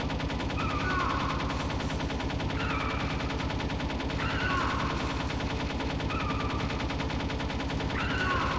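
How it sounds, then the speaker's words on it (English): Steady, rapid machine-gun fire from Metal Gear Solid hammers on without pause, with recurring electronic alert-like tones layered over the relentless rhythmic shots. "Just keep on shooting."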